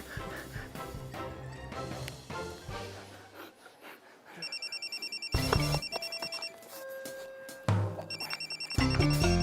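A mobile phone rings with a repeating electronic trill that comes in bursts over background music and grows louder toward the end.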